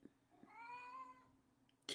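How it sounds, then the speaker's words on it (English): A house cat gives a single drawn-out, rising-then-falling meow, clear and fairly close, followed by a brief noise at the end. "have a cat that's telling me what to do"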